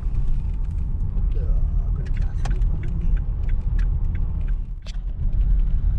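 A car drives slowly toward a caravan park, a low steady road rumble with light rattles and clicks inside the cabin, close and continuous throughout.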